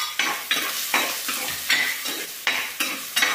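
Shallots, garlic, ginger and green chilli frying in a pan crackle with a bright, close sizzle, cut by about ten rhythmic scraping stirs of a utensil against the pan, with no talking.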